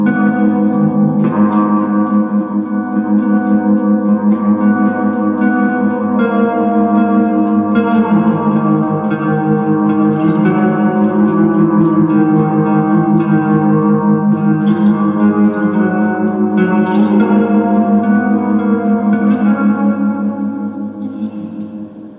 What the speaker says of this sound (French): Et une reverb de type hall.